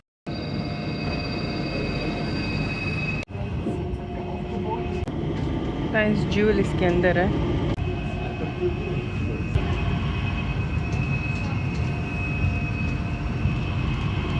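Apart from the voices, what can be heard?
airport inter-terminal train ride at Changi Airport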